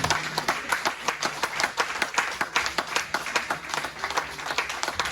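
A church congregation claps steadily in rhythm, dense and close, filling the room continuously with a faint voice underneath.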